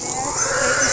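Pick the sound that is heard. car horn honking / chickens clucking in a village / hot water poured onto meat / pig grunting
pig grunting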